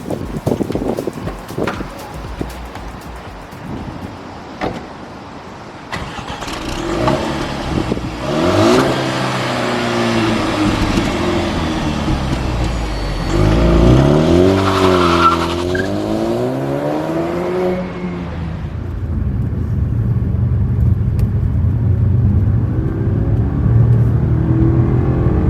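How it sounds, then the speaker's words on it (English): A 2019 Jaguar XE sedan accelerates on a drive, its engine climbing through rising revs with gear changes as pitch swoops up and drops, loud and close with wind noise building toward the end. "let's take the 2019 Jaguar XE for a spin."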